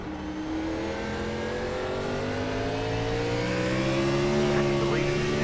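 A race car engine in iRacing holds steady at high RPM at Martinsville, a loud continuous whine that climbs slightly in pitch, heard from on board with no talking.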